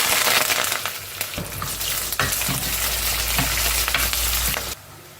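Chopped onion and a sprig of curry leaves stirred into a sizzling mustard seed tempering, a steady loud frying hiss with scraping spoon strokes that stops abruptly near the end.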